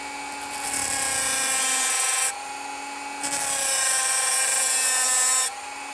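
Dremel rotary tool grinding on a gun part, a high-pitched steady whine in two bursts of about two seconds each, separated by a short pause.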